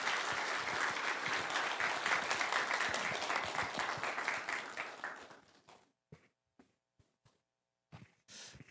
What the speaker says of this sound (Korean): 우리 환영의 박수로 하나님께 영광의 박수 올리겠습니다